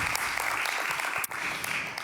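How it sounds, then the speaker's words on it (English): A round of applause from the audience at a World Refugee Day event, broad and even clapping sustained for the full stretch, slightly distant and fairly soft, with one brief dip partway through. "I want to have a round of applause"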